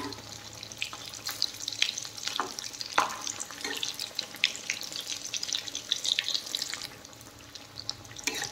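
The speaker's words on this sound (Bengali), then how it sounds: "নেড়ে চেড়ে কিন্তু ভেজে নিতে হবে লাল লাল করে।" Aloo bread pakoras fry in hot oil, a busy crackling sizzle with occasional sharper pops and stirring scrapes, steady and close throughout, with no one speaking.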